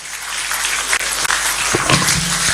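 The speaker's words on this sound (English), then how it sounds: "Please give another round of applause to the People's President, Dr. Ike Neliako" Audience applause in a hall at a national spokespersons' summit, a dense, steady wash of clapping that fills the whole stretch without pause.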